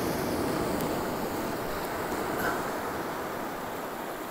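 Steady wash of sea surf rolling in at the coast with the tide rising, a broad continuous roar with light wind noise, no talking.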